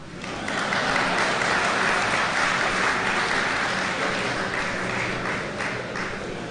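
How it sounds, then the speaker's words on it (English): A seminar audience at a Finance Act 2019 event in Nigeria breaks into sustained applause, loud and steady for several seconds before tapering slightly at the end. "Clap for me now."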